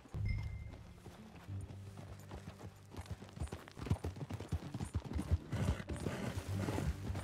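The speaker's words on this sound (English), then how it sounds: "That new horse?" Horse hooves clip-clop at a walking pace among other ranch sounds, with a low steady rumble underneath; the steps come in an irregular rhythm, moderately close and fairly clear, with no talking.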